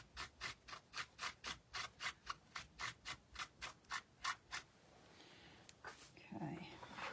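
Brushes are scrubbed clean on a scrub pad in about sixteen rhythmic, evenly spaced rasping strokes, close and clear, followed by quieter rustling and handling.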